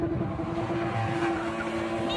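A car spins in a stunt display, its engine droning steadily while tires squeal in a sustained whine, heard from nearby with background noise and no clear speech.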